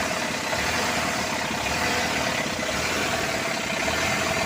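A freshly overhauled C240 diesel engine idling steadily just after starting, with a fairly high idle and a continuous rough mechanical clatter and hum at moderate level, no voices.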